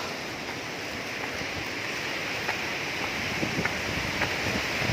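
Steady wind gusts across a steep mountain trail up Bongao Peak in Tawi-Tawi, Philippines, a constant broadband rush with faint scattered clicks and no talk.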